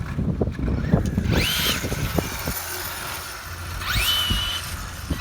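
A Traxxas Slash 2wd RC drag car with a 1969 Chevy Nova SS body spins around outdoors, its electric motor rising to two sharp whining revs over wind and rumbling background noise.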